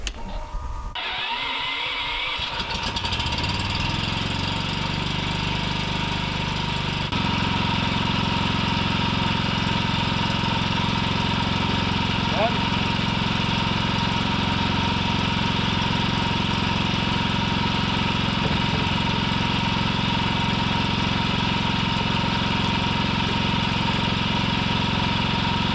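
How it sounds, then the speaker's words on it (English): A portable generator powering a well pump setup sputters and catches, then settles into a loud, steady, droning idle as it warms up, running continuously close by with no voices. "If you would cut the generator on for us, and then let it warm up"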